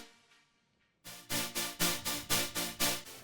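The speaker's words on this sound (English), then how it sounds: "this is the bass. So I just have these 2 layers," Two layered Serum synth basses in an electronic track, a quiet tail first, then loud rhythmic bright pulses pumping in a steady pattern, close and alone.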